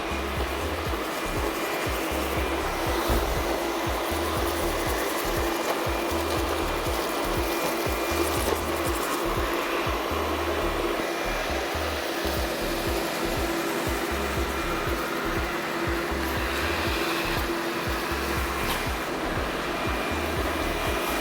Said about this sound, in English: So let's start off with the DEEBOT T10 Plus.